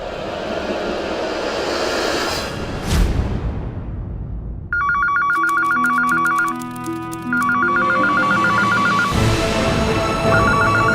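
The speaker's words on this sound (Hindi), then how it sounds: "फोन उठाओ" An electronic phone ringtone trills in repeated bursts in a household scene, loud and up close, preceded by a swelling whooshing sweep and continuing in patterned rings.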